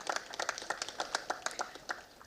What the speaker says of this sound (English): A huge round of applause for Dr. Sesha Iyer, our principal back then,